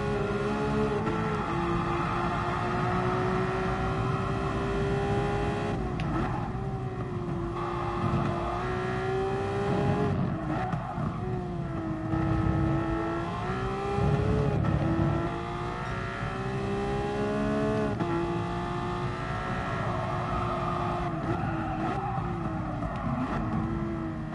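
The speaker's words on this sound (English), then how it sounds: "with that weird engine noise, we get that real stutter" A Porsche race car in Gran Turismo Sport during an endurance race, engine droning loudly throughout with repeated revving climbs and gear-change dips, plus a slight stutter in the tone.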